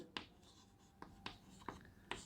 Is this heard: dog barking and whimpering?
no